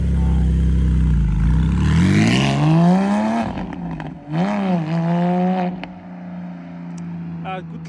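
Porsche GT4 engine starting and revving up, rising and falling in pitch close by, with voices talking over it.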